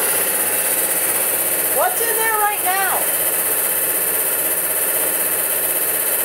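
An air filter machine runs beside a diamond saw used for cutting agates, making a steady, loud broadband hum that fills the whole stretch while a person briefly speaks over it.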